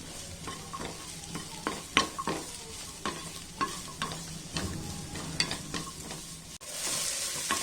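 Chopped capsicum and carrot are stirred in a frying pan for a macaroni pasta dish, a soft continuous sizzle punctuated by repeated spatula scrapes and taps against the pan, fairly quiet with no talking.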